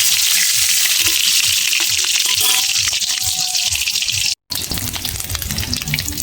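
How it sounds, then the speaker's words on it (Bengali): Eggs fry in hot oil with a loud, steady crackling sizzle close by, broken only by one brief gap. "তেল গরম হয়ে গেছে, আমি ডিম দিয়ে দিচ্ছি"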